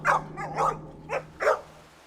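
Molly, a small dog about the size of a Cocker Spaniel, barks four times in a loose rhythm, sharp close yaps with quiet gaps between them and no voices.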